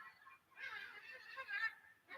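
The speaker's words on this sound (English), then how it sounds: "the stupid seagulls are going mad outside" Seagulls call outside, faint and distant, a couple of squawking bursts heard through a window in a quiet room.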